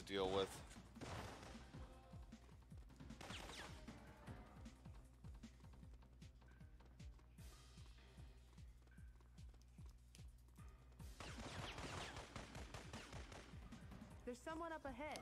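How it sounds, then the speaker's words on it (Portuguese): Sharp, rapid pistol gunshots in the video game Syphon Filter crack repeatedly over the game's background music and effects, clustered in bursts near the start and end. "Eu nunca vi uma pistola que dá mais de 30 tiros."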